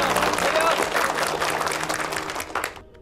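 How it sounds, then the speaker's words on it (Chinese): A group of people in a revolutionary-era drama applauds to welcome two new comrades, a dense burst of clapping that fades toward the end, with voices mixed in. "大家掌声欢迎两位新同志的加入。"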